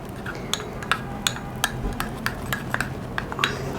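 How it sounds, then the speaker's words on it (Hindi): A spoon clinks repeatedly against a bowl while flour is stirred into a pear face mask, bright taps at a steady pace over soft scraping. "तो मैं ये 1 चम्मच भरकर डाल रही हूँ और इनको मैं मिक्स कर लूँगी।"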